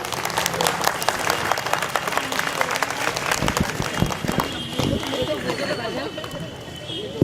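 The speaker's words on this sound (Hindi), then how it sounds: "एक जोरदार तालियां।" Audience applause at a political gathering after a counting-room victory, loud clapping from a crowd that continues for several seconds and tapers off near the end, with voices mixed in.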